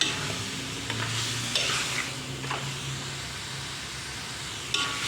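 Pork belly seasoned with pepper sizzles steadily in a pan while a utensil stirs it, giving a few scraping clinks over a constant soft frying hiss.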